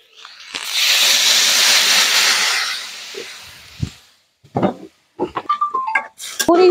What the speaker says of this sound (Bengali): সবজিটা ভাজা হয়ে গেছে, এখন জল দিয়ে দেবো।